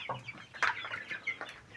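Young chicks give a few faint, thin cheeps in quick succession in a brooding pen, quiet and close, with no voices.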